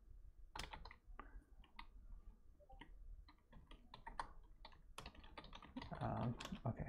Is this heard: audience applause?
no